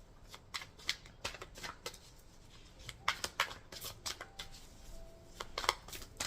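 Tarot cards being shuffled by hand, a series of quick papery riffles and slaps in irregular bursts, close but quiet, with no talk.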